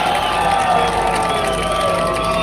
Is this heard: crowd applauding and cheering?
yes